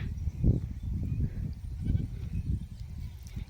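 A goat bleats in a rural field during herding, with low, wavering calls close by over steady outdoor background noise.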